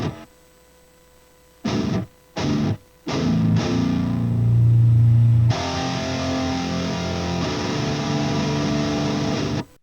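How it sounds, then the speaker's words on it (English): Heavy metal guitar tone through the free STL Tones Ignite amp plugin sits in a full band mix: a few short distorted stabs separated by gaps, then sustained chugging that swells into a loud, dense wall of guitars with no voices. "Now, all together in the mix with this free amp."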